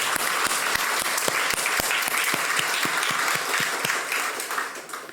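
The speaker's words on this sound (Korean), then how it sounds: "다시 한번 박수해 주시기 바랍니다" A church congregation claps for several seconds, a dense, even wash of applause with a few louder individual claps standing out near the listener.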